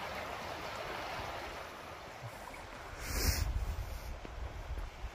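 The Miljacka river flows clear near Kozija Ćuprija, a continuous rushing stream heard close and alone, swelling slightly louder toward the end.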